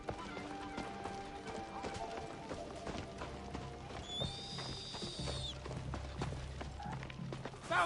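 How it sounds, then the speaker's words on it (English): Footsteps in the video game Assassin's Creed Shadows: a steady run of hard, clip-clopping steps over a busy game soundscape, with a brief high whine partway through. "I hear more footsteps."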